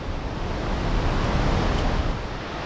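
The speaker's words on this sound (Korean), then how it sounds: "보에서 떨어지는 수량이 많다 보니 웅장한 폭포 소리가 납니다" Water pours over a weir like a waterfall in a mountain valley stream at Deokdong Valley, Jecheon, making a loud, steady, broad rushing roar, close and unbroken throughout, with no voices.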